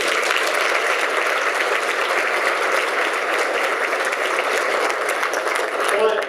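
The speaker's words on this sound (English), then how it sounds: "Let's give him another huge round of applause." Steady, loud applause from a large audience, a dense wash of clapping that continues throughout.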